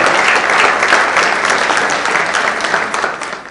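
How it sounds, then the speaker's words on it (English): An audience at a political speech bursts into dense, sustained applause that fills the room, then begins to thin out toward the end. "he deserves a round of applause."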